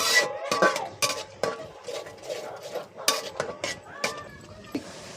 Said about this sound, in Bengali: এবার এটা ভালো করে মশলাটা মিশিয়ে নেব।